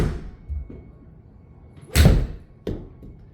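A golf club strikes a golf ball with a sharp, solid thwack, followed moments later by a second, lighter crack, against a quiet background.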